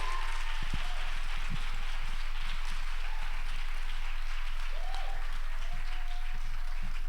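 Steady applause from a comedy show audience for the host, a dense continuous wash of clapping with no voices over it.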